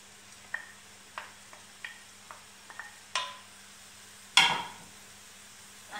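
Carrots and courgettes in a pan, with a faint sizzle under a sparse series of light scraping and clicking stirs, ending in one louder scrape near the end.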